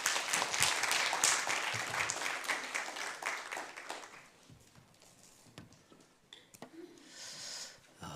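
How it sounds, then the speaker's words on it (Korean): Church congregation applauds to welcome the pastor, a dense burst of clapping that thins and fades after about four seconds, leaving sparse claps and room noise. "목사님 나오실 때 많은 박수로 환영해 주시기 바랍니다"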